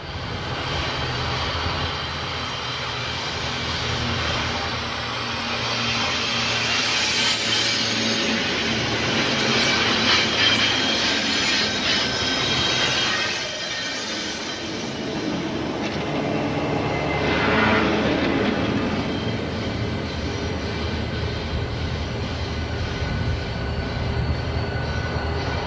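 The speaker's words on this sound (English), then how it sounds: "According to Painter, 3 SD40 series locomotives were the favored power for these trains." A Norfolk Southern freight train hauled by SD40-series diesel locomotives rolls past on the Saluda Grade in the early 1990s, with a sustained rumble of engines and wagons, metallic wheel squeal and rising and falling clatter as the cars pass.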